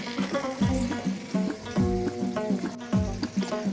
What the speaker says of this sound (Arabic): غادي نديروا الطاجين سخون، نديروا فيه اللحم اللي عندنا